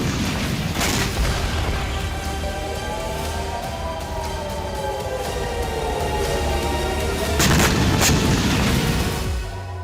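Drone strike explosion near Netanyahu's home that set an electronics company warehouse on fire; a dense, sustained rumbling roar with broadband booming bursts, loudest near the start and again toward the end.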